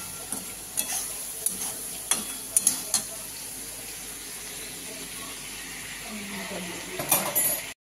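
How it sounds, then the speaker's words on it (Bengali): Prawns are stirred with soy sauce in a frying pan, giving a soft continuous sizzle broken by several sharp scrapes and knocks of the spatula against the pan, followed by a brief louder clatter near the end. "দিয়ে এবার আমি নাড়াচাড়া করতে থাকবো"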